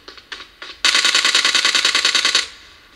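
Gunfire in the mobile game PUBG Mobile, played on a OnePlus 7T phone: three quick single shots, then a loud rapid automatic burst that lasts about a second and a half before cutting off.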